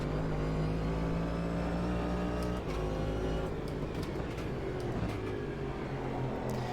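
Race car engine in the Automobilista 2 racing game, a loud steady drone with a brief dip at a gear change partway through, then revving on under a rougher texture; no talking.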